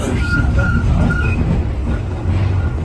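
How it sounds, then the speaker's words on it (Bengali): A driverless London DLR train rumbles past near Canada station, loud and continuous with rolling wheel noise and faint squeals throughout. "ট্রেন যাচ্ছে একটা,"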